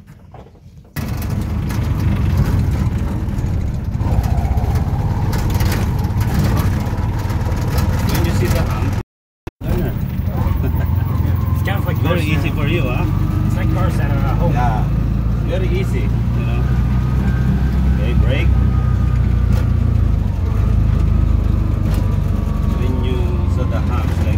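A tuktuk tricycle engine runs and idles close by for a driving lesson, a loud continuous low rumble with throttle swells and one brief dropout, while people talk over it.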